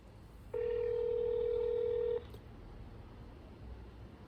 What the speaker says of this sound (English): I am going to call the phone number on there.